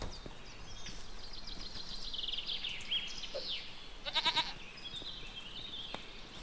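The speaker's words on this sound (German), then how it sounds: "Eine Ziege." A goat bleats in the video game Force of Nature, with faint, quick, wavering cries set in a quiet outdoor ambience with scattered bird-like chirps.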